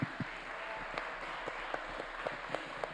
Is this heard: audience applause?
yes